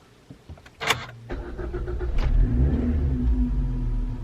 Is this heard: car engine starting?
yes